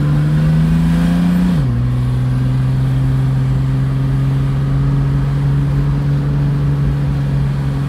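A 1968 Mercedes-Benz 250SL engine drones loudly and steadily, its pitch rising briefly then dropping back as the throttle is pressed and the engine hesitates, holding a constant hum afterward with no voices.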